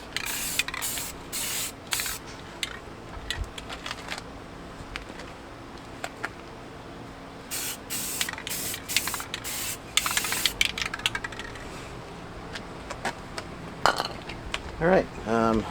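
Rust-Oleum sealant paint sprayed from a can in a rusty car engine bay, hissing in repeated short bursts with brief pauses and some rattling between them.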